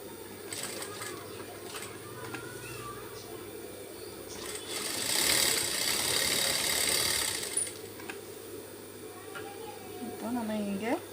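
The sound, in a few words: sewing machine stitching cloth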